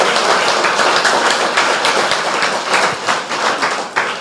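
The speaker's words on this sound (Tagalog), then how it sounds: "Malakas na palakpak para kay Lord." A church congregation claps loudly during a Bible teaching service. The dense, close applause runs continuously for several seconds with no talking over it.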